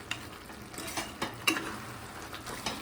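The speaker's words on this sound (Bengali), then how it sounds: "ওই আদা, রসুন, পেঁয়াজের পেস্টটা দিয়ে দিলাম। দিয়ে ভালো করে নাড়িয়ে দিচ্ছি।" Chicken meat stirred in a pan with ginger, garlic and onion paste, giving a close sizzle with several sharp scraping strokes of the spoon across a short stretch, no talk.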